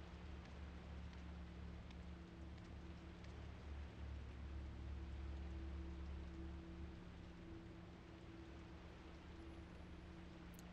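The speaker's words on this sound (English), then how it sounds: "That's a very nice little detail that it's raining." Rain falls steadily in the video game Fatal Frame: Maiden of Black Water, a faint, even hiss that holds throughout under a low ambient drone.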